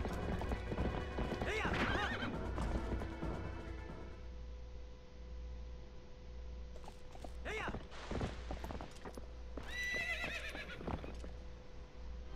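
A horse in The Legend of Zelda: Twilight Princess whinnies loudly, and its hooves clip-clop steadily. More neighs break out later over a low background hum.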